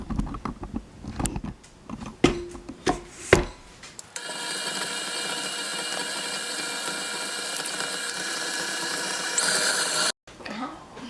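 Softened butter being creamed for banana bread: a few knocks and clatters of utensils, then a steady, close electric mixer whir for about six seconds before it stops abruptly.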